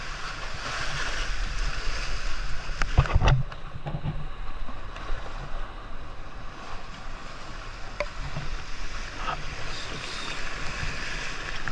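Continuous roar of rough surf and wind from a strong sea during a typhoon, with a sharp knock partway through and no voices.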